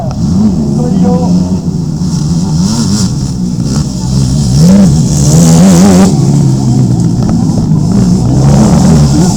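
Quad (ATV) race engine revving hard on a circuit hosting quads for the first time, a loud sustained mid-pitched drone that rises and falls with throttle, with commentary voices over it.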